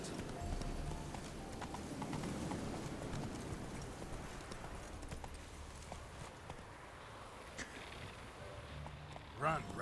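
Roach the horse in The Witcher 3 sends up a steady clip-clop of hooves, a continuous moderately loud run of hoofbeats with faint voice-like sounds underneath and a brief louder burst at the very end.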